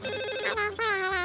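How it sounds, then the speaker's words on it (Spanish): A telephone rings in a steady electronic ringtone with harmonic tones, repeating in short bursts across the whole moment, loud and close with no talk over it. "no ha dejado de sonar el teléfono."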